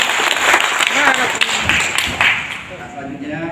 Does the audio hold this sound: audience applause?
yes